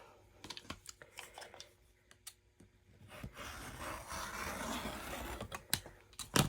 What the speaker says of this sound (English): I hope that my rotary cutter is going to cut all the way through